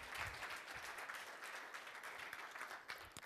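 Audience applause for Carole and Eduardo at a live event, a dense, steady wash of clapping from many hands that holds for the whole span at moderate level.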